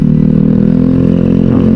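A loud motorcycle exhaust rumbles steadily in traffic, a close, sustained low engine drone with a faint rhythmic clatter and no speech over it.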